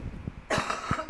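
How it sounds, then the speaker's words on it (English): Several short coughs from a single person, loud and close, in quick bursts with a brief throat-clearing quality and no talk over them. "I'm so sorry if I have to cough."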